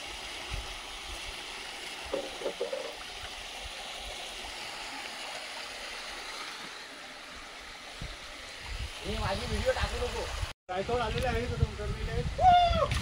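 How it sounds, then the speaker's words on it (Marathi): The Pitsai river flowing steadily nearby as a soft continuous rush and gurgle, with people talking over it toward the end. "हा पिटसाई नदीचा पाणी आहे"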